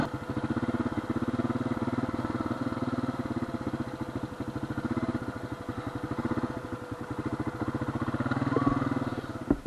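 A Honda CR250 two-stroke dirt bike engine runs steadily at close range, a fast, even clattering pulse that rises slightly near the end, with no talk over it.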